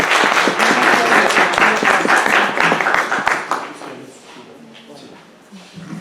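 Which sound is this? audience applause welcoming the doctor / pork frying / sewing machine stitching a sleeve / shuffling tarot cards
audience applause welcoming the doctor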